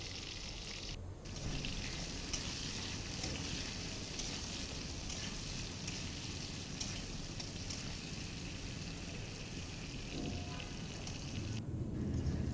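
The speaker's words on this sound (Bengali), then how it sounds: "এখানে আমি বেগুনটাকে হালকা লবণ এবং হলুদ দিয়ে ভেজে নেব।" Eggplant seasoned with salt and turmeric fries in oil with a faint, even, rain-like sizzle that holds steady throughout, with no voices.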